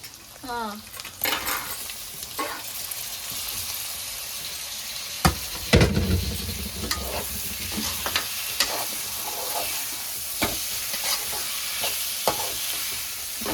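Tomatoes frying and sizzling in a pan while cooking Guntur-style broad beans, a steady hiss with scraping stirs and occasional sharp clinks of a utensil against the pan.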